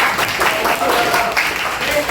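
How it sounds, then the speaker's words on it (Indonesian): A classroom group claps continuously, dense applause under a speaking voice. "berikan tepuk tangan pada dia."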